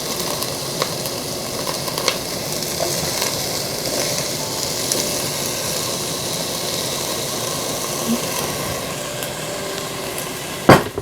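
Carrots and other vegetables for sweet and sour tofu sizzle in a hot pan with a steady, fairly loud hiss, broken by a few small clatters and a sharper knock at the end.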